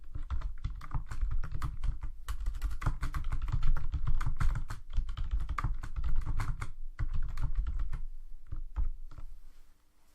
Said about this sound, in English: type my question